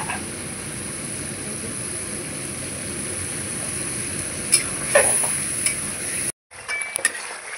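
Spice paste of tomato, chilli, coriander and cumin powder fries in hot oil for a vegetarian aloo dum, a steady close sizzle with a few spoon clinks and stirring scrapes, cutting out briefly near the end.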